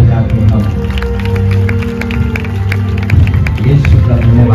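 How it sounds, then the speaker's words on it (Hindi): An audience at a Christian youth festival in Balaghat claps loudly and steadily, a dense patter of many hands running throughout over a continuous musical drone. "जोरदार ताली बजाते हम"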